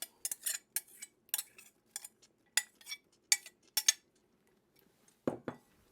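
Celery and onion are stirred into a pot of homemade chili sauce, a series of quiet, sharp clinks and scrapes of a utensil against the pot in an irregular rhythm, with no talking.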